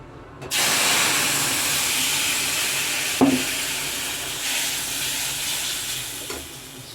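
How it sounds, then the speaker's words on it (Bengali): Hot spiced oil is poured into mung dal for tempering, setting off an abrupt, loud hissing sizzle that holds steady for several seconds close by, with a brief clatter partway through. "এখন ডালটাকে আমি সম্বার দিয়ে দেবো।"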